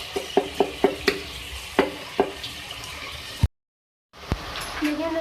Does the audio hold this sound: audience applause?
no